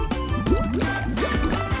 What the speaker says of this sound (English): To solve the mystery, just place them in some water.